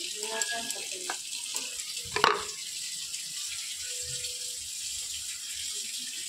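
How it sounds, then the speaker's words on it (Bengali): Oil heats in a hot kadai for frying salted hilsa fish, making a quiet, steady hiss with a brief utensil clatter partway through and faint background noise. "কড়া গরম হয়ে গেছে, কড়াতে তেল দিয়ে দেবো"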